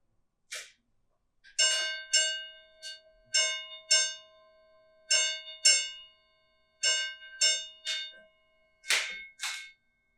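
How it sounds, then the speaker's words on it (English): Bright metallic tones ring out in a string of separate clear strikes with short pauses between them, each decaying quickly against near silence, like chimes rattled by wind outside a lighthouse. "The chimes?"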